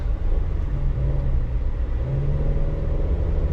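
A 2007 Toyota Avanza 1.5 G with automatic gearbox accelerates hard, its engine heard from inside the car as a loud, continuous low rumble that climbs in pitch, dips at a gear change, then rises again.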